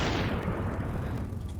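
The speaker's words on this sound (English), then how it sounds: "now we can hear like gunshots" Rumbling bursts of gunfire from a VR video game played on an Oculus Quest, a dense, boomy barrage that rolls on continuously and stays loud.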